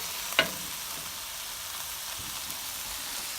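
Seasoning sears in a stir fry of pork and lobster fried rice over a high flame, a steady close hiss of sizzling with a brief clatter near the start.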